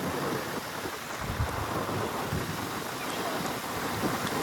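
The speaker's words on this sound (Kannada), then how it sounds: "ಮಳೆ ಬಂತು ಗೈಸ್, ಮಳೆ ಬಂತು" Monsoon rain arriving during a motorcycle ride on a highway near Ankola: a steady, dense wash of rain and rushing wind noise across the microphone, with low rumbling gusts that stay constant throughout.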